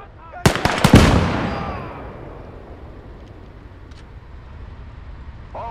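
Gunfire in a World War II battle: a quick cluster of loud, sharp shots bursts out close by, then fades into a long rolling echo over low ambient rumble.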